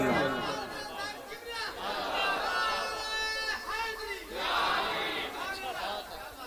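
A large crowd at a religious gathering roars back in unison to the Naara-e-Takbeer slogan, loud overlapping voices swelling in waves over several seconds.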